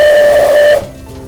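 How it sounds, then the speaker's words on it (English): A steam locomotive whistle blowing as a handle is pulled, one loud, close, steady shrill tone lasting under a second before cutting off into a soft lingering hiss. "The whistle works when I pull this handle."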